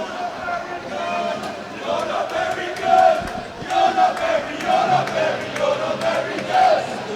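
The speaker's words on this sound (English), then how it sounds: "the home crowd getting into it there" Home fans at a local-derby ice hockey game between Whitley Warriors and Billingham Stars chant and cheer in rising, rhythmic surges that fill the rink, with a commentator's voice heard faintly beneath the crowd.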